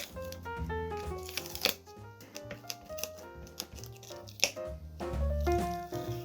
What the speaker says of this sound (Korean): 마르고 난 마스킹액을 살살살살 뜯어내면 이렇게 뜯기게 돼요. 찍 하고.